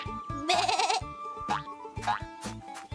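A cartoon sheep bleats several times in short wavering calls over a bouncy background music track, close and fairly loud, with no talk.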